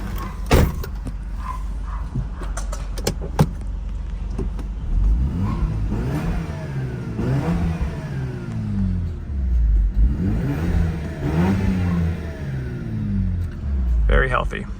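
A 1997 Mazda RX-7 FD RS-R starts and runs, its engine revving up and down in repeated swelling sweeps over a steady idle, close and loud, with some clicks and a voice at the start.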